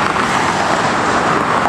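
Steady road traffic in Southern California, a continuous loud roar of cars moving and passing nearby with no distinct gaps, and no talking.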